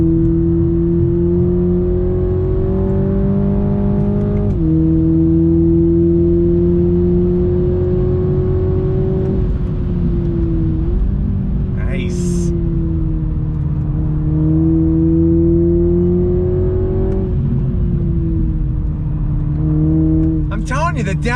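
A 2021 Toyota Supra 2.0 accelerates hard with a loud, steady engine drone. The pitch rises and dips as it shifts and downshifts, heard close from inside the car.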